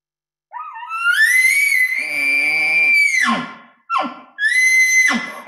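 A human voice imitates an elk's challenge bugle: a rising, sustained high whistle that breaks into grunting chuckles, followed by two shorter squealing bursts.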